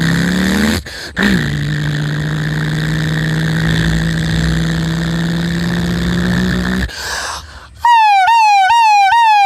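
A voice mimics an ambulance siren: a long steady drone, then a rising, repeating wail near the end, loud and close, with no talking.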